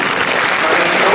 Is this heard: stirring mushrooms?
no